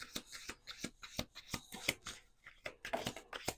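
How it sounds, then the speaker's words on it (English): Cards riffle and snap in quick repeated bursts, close and crisp, a deck being shuffled over and over with no talking. "Here we go. 1 more shuffle."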